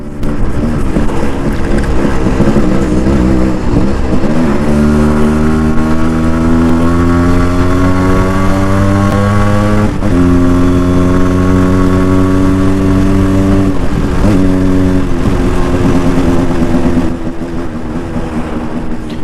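A Yamaha RXZ motorcycle engine revs steadily while riding, with rising and falling gear pitch through several shifts, loud and close throughout with no talk.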